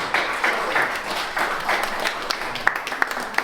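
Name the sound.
audience applauding the raffle winner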